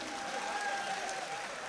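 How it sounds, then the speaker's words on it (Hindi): An audience at a Bhiwandi poetry mushaira claps steadily, a dense, even patter of many hands sustained through the short stretch with a faint tone over it. "एक बार पूरा मजमा जोरदार तालियां बजाकर"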